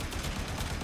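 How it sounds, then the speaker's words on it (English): Rapid gunfire from the Warframe video game, a dense continuous burst of shots filling a brief moment, loud and close with no pauses. "Stop shooting at us."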